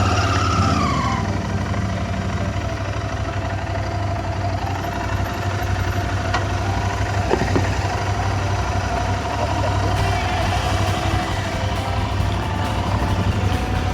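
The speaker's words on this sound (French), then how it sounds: "je vais mettre la moto de l'autre côté" A Royal Enfield motorcycle idles steadily outdoors near a lake while it is moved to the other side, a constant low engine drone running through the whole stretch with no voices.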